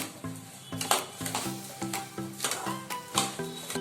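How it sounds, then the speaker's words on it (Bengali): Rice is stirred with ghee in a pan, rhythmic scraping strokes of a spoon against metal repeating about every half second over a light sizzle, close and without voices. "এবার ভালো করে আমি ঘিয়ের সাথে চালগুলোকে মিশিয়ে নিচ্ছি।"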